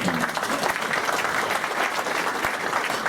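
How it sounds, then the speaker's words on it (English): Sustained applause from an audience honouring public servants at a veterans award ceremony, a dense, even wash of many hands clapping at moderate distance throughout, without a break. "Another round of applause for their dedication."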